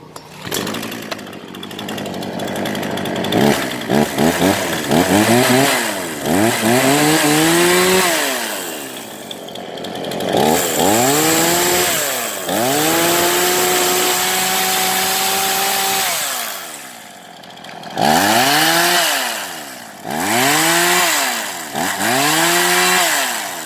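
A Komatsu G3500 chainsaw with power assist runs close by, idling and then revving in repeated rising and falling bursts, with one longer steady high-speed stretch.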